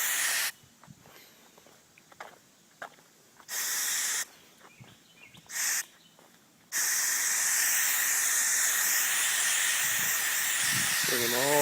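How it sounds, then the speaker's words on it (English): A pressure sprayer hisses in several bursts while spraying bushes and trees around a swimming pool to treat algae, then settles into one long continuous spray, loud and close, with a brief voice near the end. "We'll just go around spraying all these little bushes, trees"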